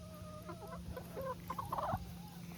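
Nine chickens cluck and murmur close by while eating, short overlapping calls growing a bit busier toward the end over a low background hum.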